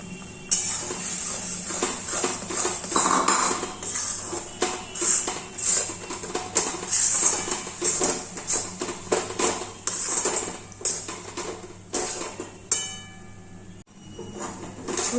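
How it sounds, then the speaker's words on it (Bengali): Rice flour stirred into boiling water in a pot for modak, with steady scraping and clinking of a spoon against the pot, close and busy, no talking. "জলটা ফুটে গেছে, এর মধ্যে এবার এই চালের গুঁড়োটা সবটা দিয়ে দেবো।"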